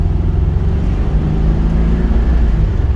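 A 1966 T34 pulling away and shifting up through its gears, the engine's low, close drone steady and loud with a slight rise in pitch, no speech.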